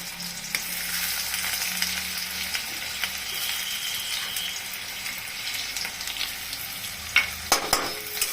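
Onion frying in a pan for cauliflower and egg bhujia makes a steady, moderate sizzle, with occasional faint clinks and a cluster of sharper utensil knocks near the end, and nobody speaking.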